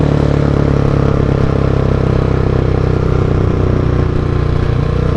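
A 2017/2018 Husqvarna 701 motorcycle with a roughly 700 cc engine restricted to 41 PS and fitted with a Mivv exhaust runs nearby with a loud, steady, throbbing exhaust note that holds evenly throughout.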